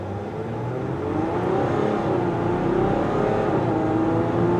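A 2020 RAM 1500 diesel crew cab 4x4 pickup accelerating from inside the cab, a steady low engine drone rising gradually in pitch as it pulls, loud and continuous with no talk.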